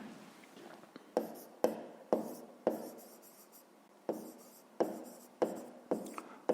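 Pen scratching out figures on paper during a fifth-grade math lesson, a run of quiet close strokes with sharp taps and brief rests between them, alone in a hushed room.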